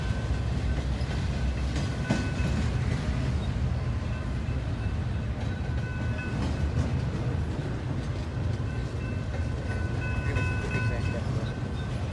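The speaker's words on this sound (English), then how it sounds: "Guess this is a intermodal train, technically speaking." A Norfolk Southern intermodal freight train loaded with containers rumbles past slowly at a steady, low, continuous roar with faint rail clatter, while people talk quietly nearby.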